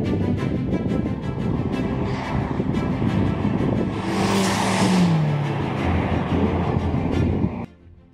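A Ferrari Roma's 3.9-litre twin-turbo V8 pulls hard from standstill to 100 km/h, a loud, steady engine roar with rising revs and heavy wind rush, cutting off abruptly near the end.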